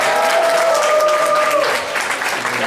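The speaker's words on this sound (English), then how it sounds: "Please make some noise for Kelly Johnson." An audience at a masquerade event bursts into loud, continuous applause and cheering, with a brief whistle-like tone rising over the clapping early on before the crowd noise carries on alone.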